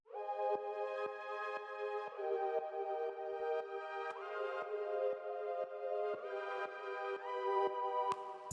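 A sustained R&B synth pad chord with Gross Beat gating, sidechain pumping, a stereo enhancer and reverb plays alone, its held tones rhythmically ducking at a steady pulse and shifting chords every two bars.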